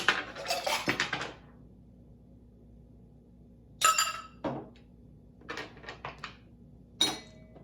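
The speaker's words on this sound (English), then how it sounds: "All right, then you're gonna add your ice." Ice cubes clatter into a Moscow Mule glass, a quick cluster of bright clinks and rattles followed by a few separate knocks and chinks, close and clear against a quiet room.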